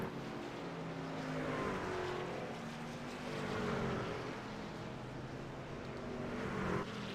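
Race trucks accelerate through the final chicane at the Charlotte Roval in a Carolina Challenge truck series event, with engines droning and rising in pitch, heard at a moderate distance as a steady, layered roar.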